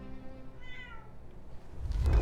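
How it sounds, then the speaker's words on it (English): A house cat meows during a Zelda: Ocarina of Time gameplay session, a short rising call in the middle followed by a louder burst of noise near the end, fairly close to the microphone. "My cat wants to add to the recording."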